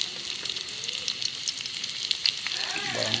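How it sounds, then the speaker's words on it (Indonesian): Shallots sizzle and fry in hot cooking oil in a pan, a steady close crackling hiss with scattered pops, cooking for a Bidayuh sago grub and tempoyak dish. "Masukkan sedikit minyak masak untuk menggoreng."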